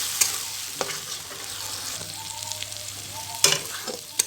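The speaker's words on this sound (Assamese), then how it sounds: "ভাজা হোৱালৈকে ভাজি থাকিম।" A spice paste ground with cumin sizzles softly in a pan for a mutton curry, broken by several sharp scraping strokes of a spatula stirring it at irregular intervals.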